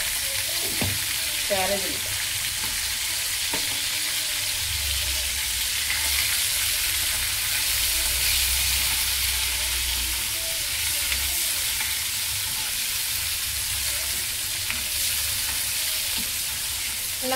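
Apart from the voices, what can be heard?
ivy gourd (dondakaya) frying in a pan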